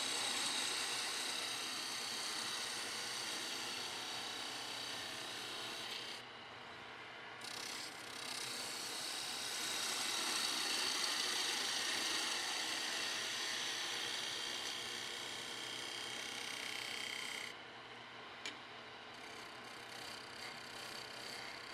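Chisel cutting a bevel on a peppermill spun on a wood lathe, a steady broadband whir and scrape running continuously, briefly easing off twice before resuming, close and moderately loud with no talk.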